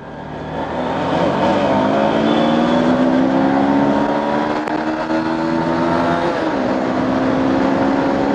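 Bajaj Pulsar motorcycle engine running steadily as the bike rides through deep water on a flooded road, a loud continuous drone with shifting pitch and no talk.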